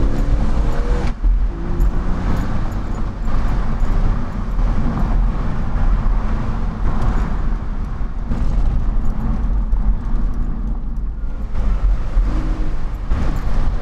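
Road traffic from inside a moving car in heavy freeway traffic, a loud continuous engine and tire rumble with passing-vehicle swells throughout and no talking.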